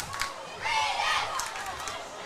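St Rita's cheer squad cheering at a sports game, heard at a distance as a crowd swell that rises midway and then fades back into general murmur.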